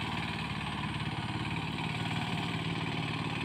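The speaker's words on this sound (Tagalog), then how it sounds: "Yan yung makina" A small engine pumping water uphill to irrigate an upland rice field runs in a steady, even chug, close and continuous throughout, with no talk over it.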